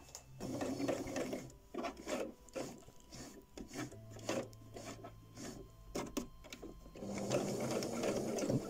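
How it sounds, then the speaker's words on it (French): A sewing machine stitches through thick denim jeans for a patchwork skirt in short runs of rapid, close mechanical chattering, broken by pauses and fabric shuffling, with more continuous stitching at the end. "je sais qu'il va falloir que je couse jusqu'à 50 cm en fait, à partir du haut de la ceinture"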